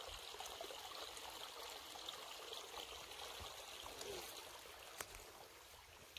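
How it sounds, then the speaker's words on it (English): A small waterfall flows steadily in a mountain camping area, a soft continuous rush and trickle of water heard from a short distance, with no voices. "Nice little waterfall."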